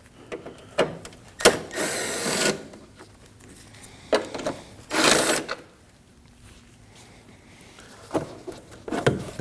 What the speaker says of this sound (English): We have two 10mm bolts that we need to remove in order to remove the beginning of our air duct.